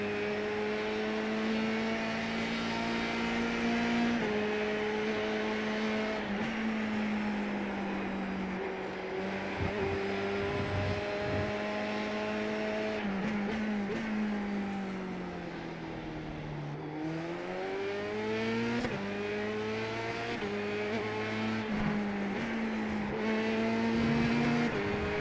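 A race car laps Brands Hatch Indy in iRacing, its engine droning steadily and loudly up close. Revs rise and fall through gear changes and corners, with a deep dip midway before it pulls hard again.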